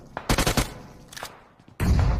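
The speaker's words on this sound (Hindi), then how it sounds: "पीछे से M4 चलने की इनको साउंड आ गई" Bursts of M4 rifle fire in a battle royale shooter game, sharp rapid volleys clustered early, a brief burst midway, then a heavier loud burst at the end.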